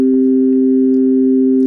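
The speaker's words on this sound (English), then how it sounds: "You can also play more than one of those pure tones together," Two pure sine tones sound together as a steady chord, loud and unwavering for the whole stretch with no other sounds.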